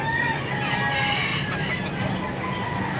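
Young rooster (stag) at a busy poultry market in Pampanga, its short clucks mixed into a steady crowded din of birds and background noise over about three seconds.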